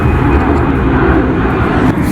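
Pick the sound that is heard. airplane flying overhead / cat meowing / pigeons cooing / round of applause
airplane flying overhead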